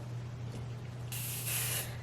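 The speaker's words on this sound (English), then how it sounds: "And then I am going to go in with that Tresemme hairspray." Tresemme hairspray hisses from an aerosol can onto hair in a short, close spray, a steady soft hiss that grows brighter and stronger partway through over a low background hum.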